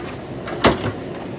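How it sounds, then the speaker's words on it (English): A two-panel sliding door in a 2026 Fleetwood Discovery 38W motorhome slides and closes, a single quick muffled thud with a soft rolling swish around it, close and fairly quiet. "we've got our sliding door here."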